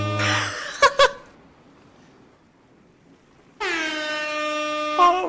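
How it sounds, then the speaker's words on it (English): Loud blasts of an MLG-style air horn in a naval video game: a short burst with two quick toots, a pause, then a long sustained honk. "It's the air horn from like the MLG thing."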